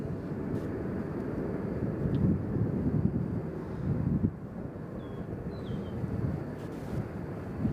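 A Delta Embraer jet airliner at Nashville International Airport gives a low, steady rumble, moderately distant and fairly faint, mixed with wind noise.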